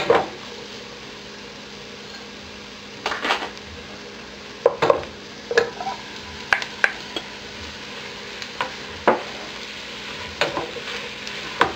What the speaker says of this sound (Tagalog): So, stir natin ulit.